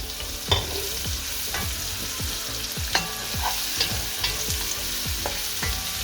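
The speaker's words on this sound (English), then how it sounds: "I'm gonna go in with the onion, carrots and garlic. We cook this on low heat." Onion, carrots and garlic cook on low heat in a pan with browned sausages for a bean and sausage stew, giving a steady soft sizzle broken by repeated scraping stirs of a utensil at close range.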